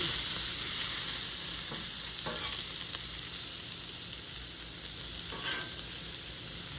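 Asparagus and butter sizzle steadily on a Blackstone flat-top griddle, a dense, even frying hiss that runs unbroken and fairly close throughout, with a few faint scrapes and no talking.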